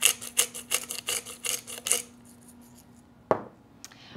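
Fresh black pepper ground by hand into a creamy dressing, a quick run of crisp rhythmic clicking grinds for about two seconds, followed by quiet and a single light knock near the end.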